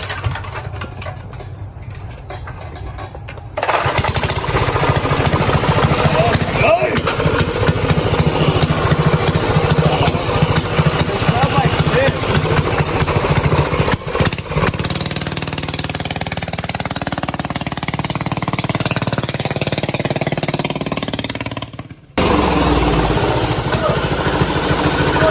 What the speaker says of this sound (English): we're about to start the transmission oil, or the gear oil, and the diesel mini bike